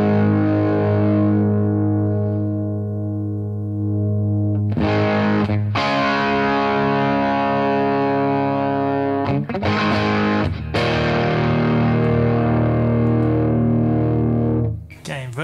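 Electric guitar through an overdrive pedal set with the level cranked and the gain pulled low: loud, mildly crunchy sustained chords ring out, with several fresh strums and a brief pause between them, no talking.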